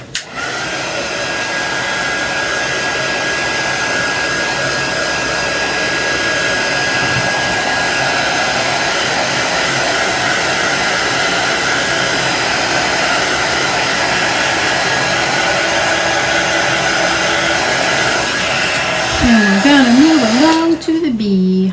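A hair dryer blows steadily and loudly up close, drying chalk paste on a Halloween sign, a continuous whooshing drone that shifts and cuts out near the end.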